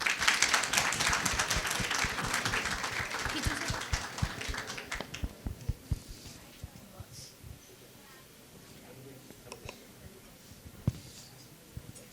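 An audience at a school music hall inauguration claps in a dense burst for about five seconds, then thins to scattered single claps.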